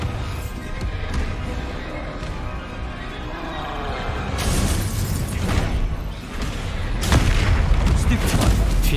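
A Bombarda explosion spell in Hogwarts Legacy bursts as a booming blast amid dense game noise, with heavy low rumble and bright crackling impacts swelling around the middle and end of the stretch.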